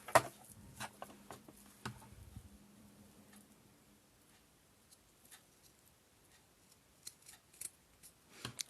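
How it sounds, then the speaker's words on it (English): Scissors snip the corners of a fabric hot pad, giving quiet, close, irregular crisp clicks and cuts in a hushed room, with no talking. "I'm going to get my scissors and cut my corners."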